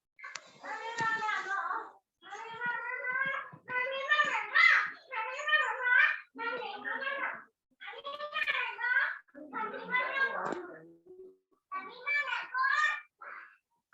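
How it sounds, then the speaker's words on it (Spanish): Someone talks continuously in the background of a video call, in a series of short phrases separated by brief pauses, fairly clear and with no other voices over it. "no sé por qué se escucha un nene hablando"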